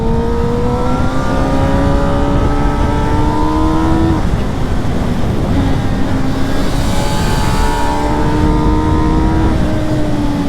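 A CFMOTO 500SR four-cylinder motorcycle screams through rising gears, each high-revving pull climbing then dropping at the shift, with steady wind rush throughout and no talk.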